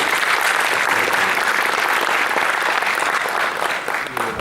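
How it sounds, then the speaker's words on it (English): Steady applause from an auction audience fills the whole stretch, loud and dense without a break, easing a little near the end. "how about another round of applause for them?"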